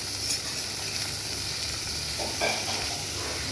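Snake gourd cut lengthwise fries in a pan for a poriyal, giving a steady, close sizzle with faint stirring scrapes and no talk.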